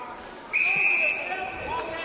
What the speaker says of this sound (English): Umpire's whistle, holding the man.